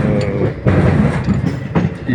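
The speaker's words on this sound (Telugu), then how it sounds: "ఈ రూట్లో ఇది రెండోసారి వెళ్తాం ఇదే ట్రైన్లో." Passenger train on a long-distance rail journey from Guntur toward Mizoram, heard from inside a coach: a steady loud rumble of wheels on track with periodic heavier surges, continuous throughout with no talking.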